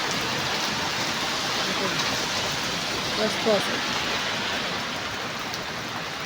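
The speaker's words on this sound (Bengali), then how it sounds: "এই আরারের মধ্যে আজকে প্রচণ্ড বৃষ্টি" Heavy rain falling in Arar, Saudi Arabia, near the Iraq border, a steady dense broadband wash throughout with a voice talking briefly over it.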